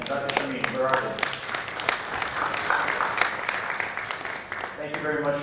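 Conference audience at a community health event gives a round of applause for two group leaders, dense steady clapping filling the hall with some voices mixed in.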